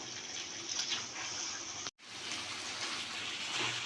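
Water poured into a pan that was used to braise chicken for kala bhuna, rinsing it during cooking: a steady, close splashing gush that runs continuously, cut by a brief pause partway through.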